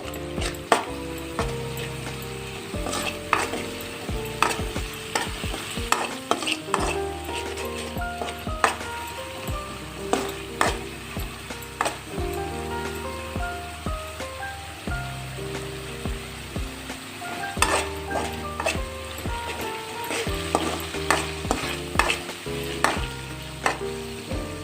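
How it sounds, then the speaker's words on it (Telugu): Ginger garlic paste frying in a pan for tomato rice, a steady close sizzle broken by frequent rhythmic scrapes and clinks of a spoon stirring against the pan. "ఇందులో 1 టేబుల్ స్పూన్ అల్లం వెల్లుల్లి పేస్ట్. ఇది కాసేపు వేయించుకోండి,"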